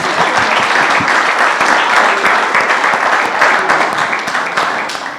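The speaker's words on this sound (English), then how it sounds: "Can we please give them another round of applause?" Loud, dense applause from a conference audience, continuous clapping throughout that eases off slightly toward the end.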